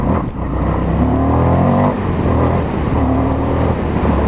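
An Indian FTR 1200 motorcycle with an Akrapovic exhaust accelerates hard, a loud, close engine roar rising in pitch through the gears, with the steady rush of riding wind underneath.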